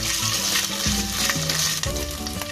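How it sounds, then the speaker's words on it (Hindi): Boiled potato pieces roasting in half a spoon of hot ghee in a pan over a medium flame, a steady close sizzle with occasional stirring scrapes. "पैन में मैंने आधा चम्मच घी को गर्म करने रख दिया था। अब हम हमारे जो बॉईल किए हुए पीसेस आलू के इसमें हल्के रोस्ट करेंगे।"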